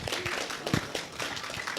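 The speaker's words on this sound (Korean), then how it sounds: "우리 하나님께 감사의 박수를 드리겠습니다." Brief, scattered applause of thanks from a church congregation at an outdoor festival service, a light, uneven patter of claps that is fairly quiet.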